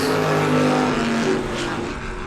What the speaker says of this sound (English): On the racetrack now, beautiful black and yellow number 69 machine.